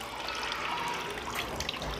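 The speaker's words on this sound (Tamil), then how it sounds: "இதனால் தண்ணி கீழே வேற ஊற்றுது." Water pours steadily through holes in a container, a soft, continuous trickling splash heard close and alone for two seconds.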